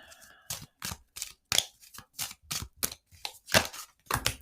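A deck of tarot cards is shuffled in quick separate bursts, about a dozen crisp riffling snaps in an uneven rhythm, close and clear with quiet gaps between them.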